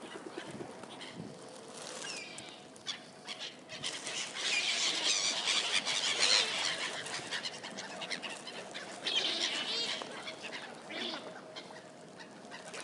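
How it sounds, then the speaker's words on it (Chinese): Seagulls and pigeons crowd in to be fed bread outdoors in London, with a busy flurry of flapping wings and scattered squawks and calls that rise and fall over several seconds, fairly close. "这些面包就是可以喂这些海鸥，待会儿它们就都会来了"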